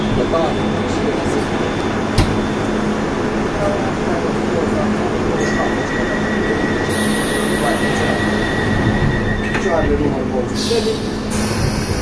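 A London Underground Piccadilly line train runs at speed, with loud, close rumbling and clattering and high metallic wheel squeals rising in bursts, while voices sit faintly beneath the din.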